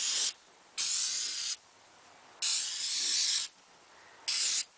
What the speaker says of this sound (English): it's good to take your rust protector,